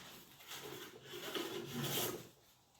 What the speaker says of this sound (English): So I'm only taking the ripples from the planer off the surface there.